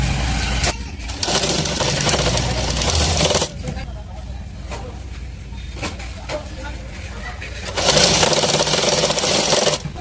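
A sewing machine runs in bursts while stitching a single-dart cross-cut blouse, its steady mechanical whir starting and stopping between pauses, with someone talking over the work.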